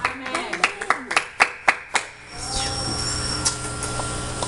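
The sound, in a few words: congregation clapping for Jesus Christ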